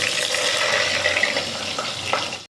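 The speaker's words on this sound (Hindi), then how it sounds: "जो हमने ऑयल गर्म किया था अब हम इसे प्याज डाल देंगे ताकि लाइट ब्राउन होगी" Finely chopped onions dropped into hot oil for a Karachi-style aloo chana biryani, a dense, continuous loud sizzle close up that cuts off abruptly at the end, with no voices.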